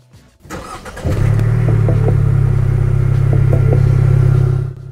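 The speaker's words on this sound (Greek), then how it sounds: "Εγώ τώρα θα βάλω μπρος το αμάξι για να το ακούσετε." A 2024 Ford Mustang EcoBoost cranks and fires up after a short whir, then settles into a loud, steady, close-up idle rumble before cutting off.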